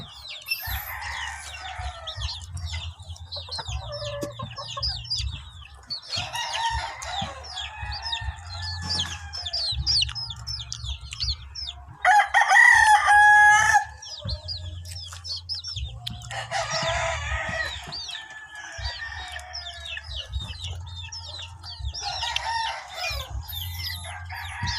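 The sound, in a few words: chicken crowing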